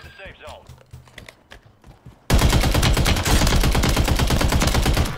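Dense, loud gunfire in the Warzone video game erupts suddenly and continues as rapid, sustained bursts, following a quieter stretch of game sounds and footsteps, with a player's voice under it.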